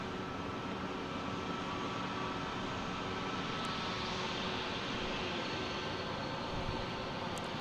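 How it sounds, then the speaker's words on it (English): JetBlue Airbus A321 airliner arriving at Boston Logan airport, a steady distant broadband jet roar that holds at an even level throughout, with no talk. "we have a JetBlue coming in from JFK, an A321"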